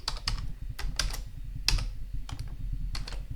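Close computer-keyboard typing while code is entered: quick, uneven bursts of crisp key clicks with short pauses between them, alone and fairly loud.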